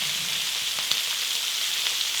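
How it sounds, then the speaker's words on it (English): Rabbit pieces, including the back strap, searing in canola oil in a pan, giving off a steady, close, even sizzle with faint crackles and no voices. "So we'll sear our rabbit about probably 3 to 4 minutes per side until it's browned"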